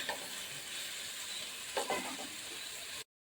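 Prawns fry in hot oil in a pan, a steady close sizzle with a brief stirring scrape partway through, then an abrupt cut to silence.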